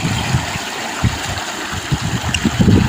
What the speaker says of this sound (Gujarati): વરસાદ બહુ જ હતો એટલે પાણી પણ બહુ જ જાય છે